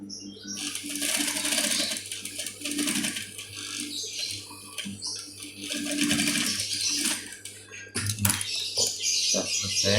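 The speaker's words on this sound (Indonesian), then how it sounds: "cara menjahit bisban bagian lehernya" A sewing machine stitches bias binding onto the neckline of a child's shirt, its motor whirring steadily and close with brief pauses and restarts, no talking.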